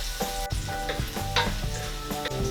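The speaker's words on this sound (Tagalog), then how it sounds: "habang hinihintay po natin na mag light brown tong bawang ay hahaluin natin siya." Garlic sizzles in hot oil for adobong paa ng manok, a steady close frying hiss broken by repeated scraping clicks of a spatula stirring, with no voices.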